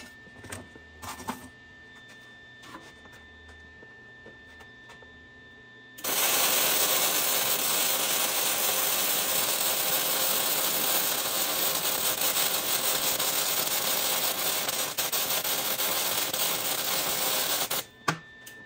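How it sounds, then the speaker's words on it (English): A weld bead runs along a Ford Super Duty axle during an axle swap, heard as a loud, steady crackling hiss that holds for about twelve seconds after a quiet start, then cuts off abruptly. "and I'll weld it this side."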